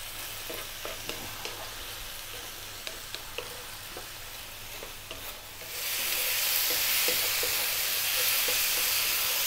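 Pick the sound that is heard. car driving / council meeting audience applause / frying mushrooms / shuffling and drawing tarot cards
frying mushrooms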